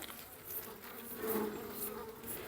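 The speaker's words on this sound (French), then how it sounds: "On les brosse doucement, les dernières abeilles." Honeybees buzz steadily and close by as the last ones are gently brushed off honey frames during a honey harvest, a dense continuous drone that swells slightly midway, with no one talking.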